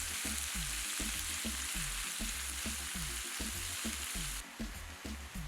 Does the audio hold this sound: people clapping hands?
no